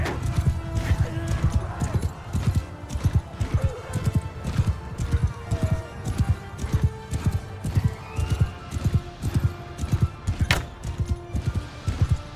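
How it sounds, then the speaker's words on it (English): Horses in a Mount & Blade 2: Bannerlord battle, rhythmic galloping hoofbeats in regular bursts with occasional neighs, close and fairly loud, under intermittent talk and battle noise. "Oh, that's a horse."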